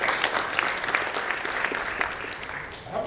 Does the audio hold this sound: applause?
yes